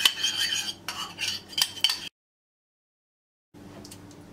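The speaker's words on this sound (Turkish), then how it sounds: "Şöyle karıştırıyorum." Egg yolk and oil being stirred together with a utensil in a bowl, quick rapid clinking and scraping for about two seconds, then silence, then faint light tapping.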